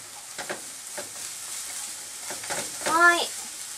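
Onions, carrots and cabbage core stir-frying in a pan, a faint soft sizzle with short scraping and stirring strokes, and a voice speaking briefly near the end.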